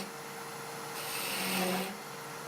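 Small cuts on a wooden goblet spinning on a lathe, a faint steady rasping hiss that swells briefly in the middle before settling.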